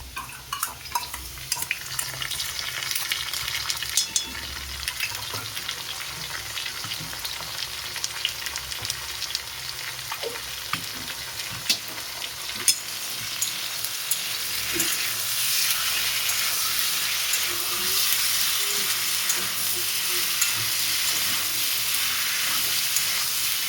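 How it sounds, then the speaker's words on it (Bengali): Ginger, garlic, green chilli, cumin powder, Kashmiri chilli powder and turmeric lightly sautéing in a pan, a steady close sizzle and hiss with occasional stirring scrapes throughout, growing slightly louder toward the end. "আদা, রসুন, কাঁচা লঙ্কা, জিরা গুঁড়ো, কাশ্মীরি লঙ্কার গুঁড়ো রং হওয়ার জন্য আর হলুদ সব মিশিয়ে এটা কষাবো হালকা।"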